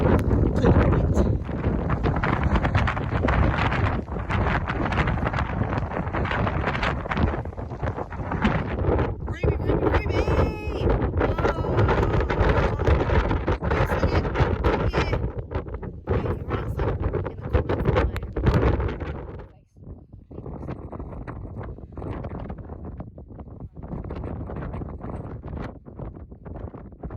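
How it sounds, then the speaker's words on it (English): Strong wind in wet British weather buffets the microphone on a mountainside by a rock formation, a loud, close, continuous roar with gusts that drops abruptly and continues more quietly. "the wind is hitting this side of the rock formation where our tents would be"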